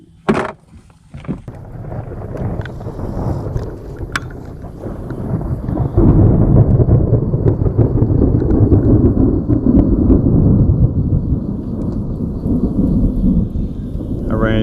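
Thunder rumbles low and heavy outdoors by the water ahead of approaching rain, swelling into a long, loud rolling roar after a few sharp knocks and handling noises at the start.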